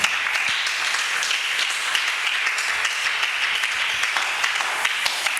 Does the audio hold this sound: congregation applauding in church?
yes